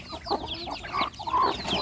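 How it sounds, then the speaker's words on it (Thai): Chickens clucking and chattering in a flock while being fed paddy rice at a rural home in Surin, several birds overlapping in busy, moderately close calls. "ไก่เยอะเลย ยากให้อาหารไก่นะครับ เอาข้าวเปลือกให้"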